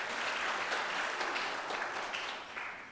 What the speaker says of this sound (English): got a clap out there for that one